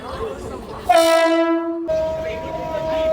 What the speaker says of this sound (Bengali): ট্রেন চলে এসছে আমাদের এখন।